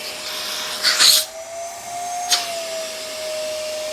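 A vacuum cleaner drones steadily with a whining motor tone, powering a TurboCat turbo brush nozzle, interrupted by two brief bursts of rushing suction noise.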